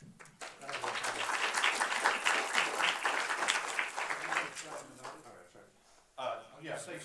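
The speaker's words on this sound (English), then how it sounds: "Let's give these guys a warm round of applause." Warm applause from a lecture audience at a university speaker series, a dense wash of clapping that swells quickly, holds steady for several seconds, then thins out before a brief final burst.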